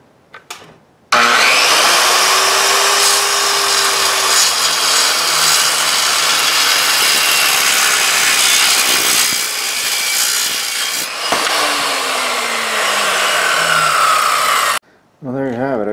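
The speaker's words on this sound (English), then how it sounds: "if you're cutting aluminum and you got a saw, you know, circular saw" A circular saw fitted with a carbide-tipped aluminum-cutting blade slices through aluminum. It gives a loud, steady, rasping whine for about fourteen seconds, with the pitch shifting slightly as the blade loads, then stops abruptly.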